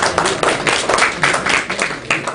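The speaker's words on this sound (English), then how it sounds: "So give yourselves a clap as well." A group of people at a boxing academy clapping together, a brisk run of irregular hand claps that stays steady for a couple of seconds, fairly close and loud.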